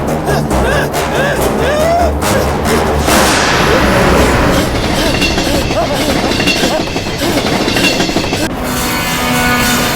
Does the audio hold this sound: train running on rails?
yes